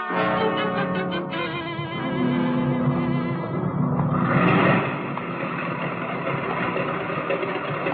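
Taxi cab engine idling as a sound effect in an old-time radio drama, a steady low rumble with a brief swell midway, heard alone without talk.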